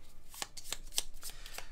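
A deck of cards is shuffled during a tabletop adventure game, giving a handful of quick crisp riffling snaps in a brief, close burst with no talking.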